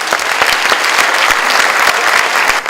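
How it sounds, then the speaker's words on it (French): Graduation ceremony audience applauding the teachers loudly, a dense, sustained burst of many hands clapping close and full throughout. "Je crois qu'on peut les applaudir très très fort."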